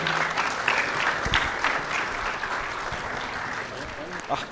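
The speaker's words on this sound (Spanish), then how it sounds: "Vamos a darle un aplauso de bienvenida desde Guatemala." An audience at the opening of a forestry expo claps in welcome for a guest from Guatemala, a dense, fairly loud wash of applause with a few sharper claps, holding steady throughout with faint voices underneath.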